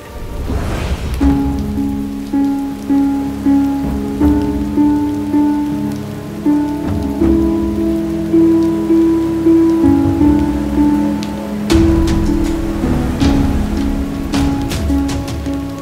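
Heavy rain falls steadily on surfaces throughout, a dense close patter that keeps rising and falling in regular surges, with a few sharper splashes and no voices.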